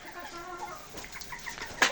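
Chickens cluck in a short burst of soft, overlapping calls, with a brief louder flutter or squawk at the end and a faint background hiss.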